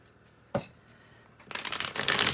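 Tarot cards are shuffled close by: a single sharp tap, a short pause, then a fast riffling flutter of cards that builds and grows louder toward the end, with no talk.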